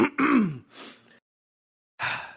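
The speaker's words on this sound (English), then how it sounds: "Let me clear my throat." A man clears his throat loudly in a few rough bursts, followed by a pause and a further gravelly vocal sound.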